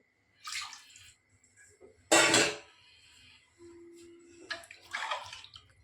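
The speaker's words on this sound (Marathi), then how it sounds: "त्या अंदाजाने आपण पाणी टाकायचं आहे" Water pours into a pot of rice and dal for masale bhat in three short bursts, the middle one loudest, separated by quiet gaps with a faint hum.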